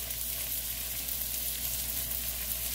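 Thick burger patties crowded together in a frying pan give a loud, continuous, even sizzle that fills the whole moment, with no voices.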